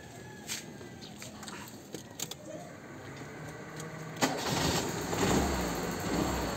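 A misfiring car engine cranks and starts, then runs with a rough, uneven idle that stumbles irregularly, with scattered clicks before it catches.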